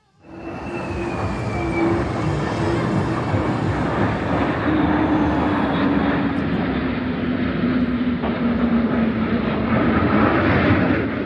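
A Japan Air Self-Defense Force jet passes at the Gifu airbase airshow, its roar building quickly and holding loud and broad, with a slowly shifting whine riding over the engine rumble.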